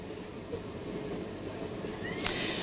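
Steady low rumble inside a moving Northern Rail passenger train running toward Liverpool Lime Street, a continuous carriage drone with a brief metallic squeal near the end.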